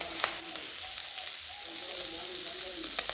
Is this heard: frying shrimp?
yes